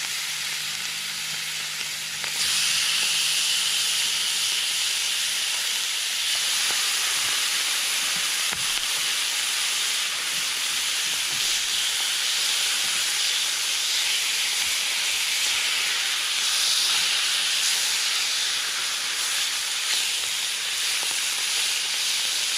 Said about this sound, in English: But I'm going to grill me some venison.